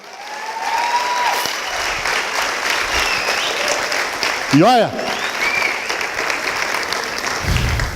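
A church congregation breaks into sustained applause during a sermon on Christian family life, thick clapping running throughout while a voice briefly speaks over it and a rising tonal sound cuts through near the middle.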